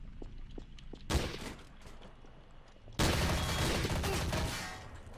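Gunfire in the video game Trouble in Terrorist Town: after a quiet patch, a sharp burst erupts, then a second, louder, sustained volley of rapid shots that fades slightly at the end.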